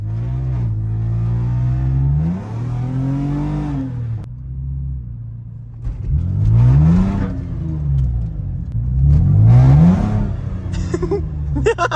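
A car engine revs and accelerates hard several times, its pitch climbing through each gear before dropping back, loud and close, with brief pauses between the surges.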